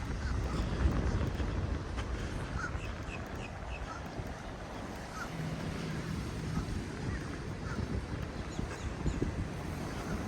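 Wind blows steadily at a Florida Gulf beach near Naples Pier after Hurricane Ian, a constant breezy rush with buffeting on the microphone and surf washing in the background, no one talking.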